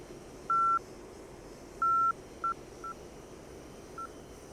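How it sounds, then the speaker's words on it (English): Morse code station identification from a TACAN navigation beacon heard over a cockpit radio, a steady tone keyed into two long dashes and several short dots over faint background hiss. "the Morse identification of the station should be heard"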